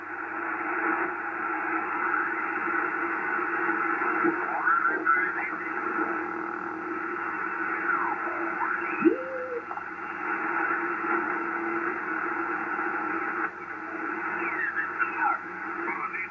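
A ham radio receiver is tuned across the 80 and 40 metre bands, giving steady hiss and static with swooping heterodyne whistles and chirps as the dial moves. Faint garbled signals drift through, and no clear voice stands out.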